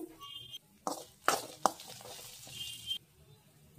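Curry leaves and spices frying in hot oil for a chickpea chaat, with a soft steady sizzle under a few sharp scrapes and knocks of a spoon stirring against the pan.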